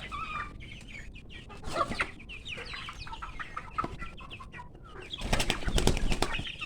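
Chickens clucking and squawking close by as they eagerly eat a feed mix, with bursts of wing flapping and a louder flurry of flapping near the end.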